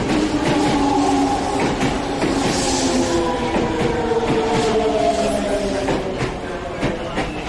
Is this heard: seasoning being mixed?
no